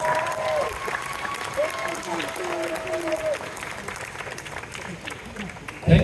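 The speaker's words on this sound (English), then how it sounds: "If you wouldn't mind a nice round of applause for our hotel director, Irfan." Audience applause for a hotel director at an onboard event on the Icon of the Seas cruise ship, a sustained round of clapping with voices talking over it.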